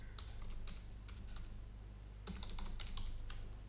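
Quick keystrokes tap on a computer keyboard while naming a layer in CAD software, a soft, faint run of clicks in two clusters with a short pause between them.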